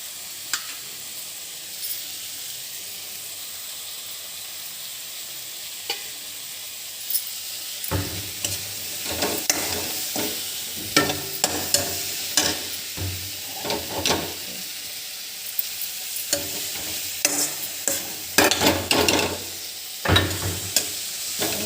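Fresh coriander leaves are stirred into softened cooked tomatoes in a pan for kothimeera pachadi. A quiet hiss opens, then a steady sizzle with repeated close scraping and stirring clatter carries on, with no talking.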